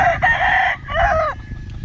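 Fighting rooster crowing close by, two loud harsh crows in quick succession over light wind noise, with faint clucking after.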